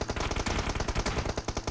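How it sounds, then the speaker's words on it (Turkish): Rapid automatic gunfire in PUBG Mobile during a competitive match, shots aimed at a vehicle, loud dense bursts of repeated cracks filling the whole moment without talk. "oradaki araca doğru atışlar olacak"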